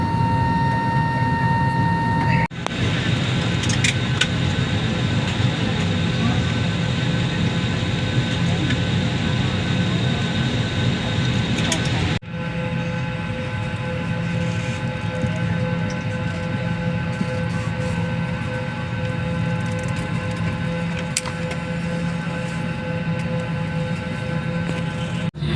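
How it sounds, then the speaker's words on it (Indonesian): Airplane cabin interior with a constant low engine drone and broad hiss filling the space, steady throughout, with a brief dip and shift in tone partway and faint tonal beeps. "Sudah di pesawat."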